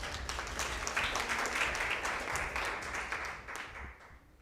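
Applause from the audience at a national junior school debate semi-final, a dense wash of many hands clapping steadily and fairly close, holding for several seconds before easing slightly at the end.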